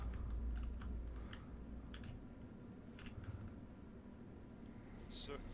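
A few quick, light clicks tap out close by in a quiet room during a ghost-hunting session, scattered irregularly under a faint background hum, with a brief voice near the end.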